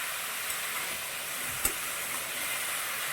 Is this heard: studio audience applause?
no